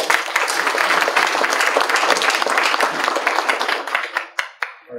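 A courtroom audience at a judicial procession and state of the circuit ceremony applauds in a dense, sustained round that fades into a few scattered claps at the end.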